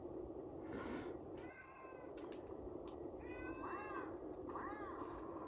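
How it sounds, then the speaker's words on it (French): A house cat meowing in a room, several drawn-out, fairly faint calls over a steady background hiss. "Il y a mon chat qui vient de faire son entrée là."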